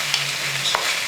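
Uncooked rice being stirred in a pan for lemon rice gives a soft, continuous hiss and sizzle with a couple of light scrapes, close and without talk.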